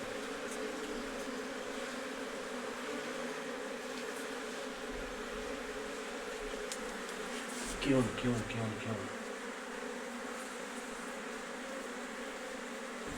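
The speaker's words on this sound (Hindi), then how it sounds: "अब मधुमक्खियाँ धीरे धीरे नीचे उतरना शुरू हो जाएगी बॉक्स के अंदर" A large swarm of honeybees settling down into a big hive box, a continuous dense buzzing drone throughout with a brief louder burst midway as a voice speaks over it.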